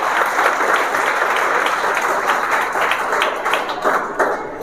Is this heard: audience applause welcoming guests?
yes